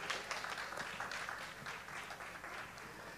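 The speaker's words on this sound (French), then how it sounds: "Encourageons ces jeunes et je demande de les applaudir." An audience applauds young people at a formal speech event, sustained, fairly dense clapping from a crowd in a hall, even and unbroken across the whole stretch.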